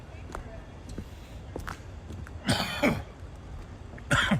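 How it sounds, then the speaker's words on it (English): Harsh, raspy smoker's coughing and throat clearing in two rough bursts near the end, close by, after a stretch of quieter background noise outdoors in Grange Park, Toronto. "That's more of a smoker's cough that I have"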